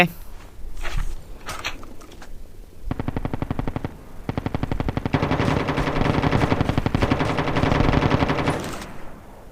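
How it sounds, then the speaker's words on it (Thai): Sustained automatic gunfire from bots shooting at each other in Call of Duty Mobile battle royale, starting with scattered shots and swelling into dense, continuous rapid bursts at mid distance with no talk. "บอดยิงกันเอง"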